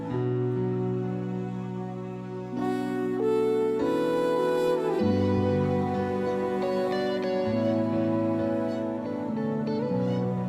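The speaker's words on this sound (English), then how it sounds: "I like the guitar in the background. That's nice." Sustained guitar-led instrumental music with layered chords and melodic notes, steady and moderately loud throughout, with no voices.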